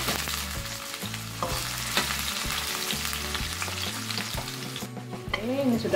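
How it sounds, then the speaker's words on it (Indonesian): Garlic, galangal and chili fry and sizzle steadily in a hot pan while being stirred, a continuous close crackle under background music with no talking. "Ini nggak usah matang-matang banget ya, kita goreng sampai sangat matang aja."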